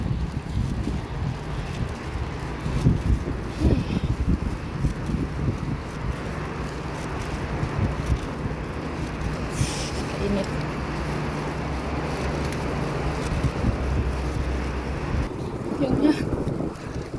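Strong wind roars and buffets the microphone without letup, with a faint engine or boat drone beneath and a brief voice near the end.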